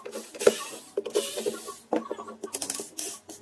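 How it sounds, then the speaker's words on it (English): Small metal screws being unscrewed from the top cover of a macerator pump, heard as a series of light clicks and ticks with short gaps between them, close up and fairly quiet with no talking. "Firstly, unscrew the 8 screws on the top cover."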